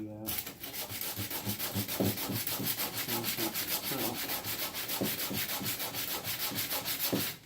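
Sandpaper rubs by hand across the underside of a Seydel Saxony harmonica slider, a close, steady rasping in quick back-and-forth strokes with no voices over it.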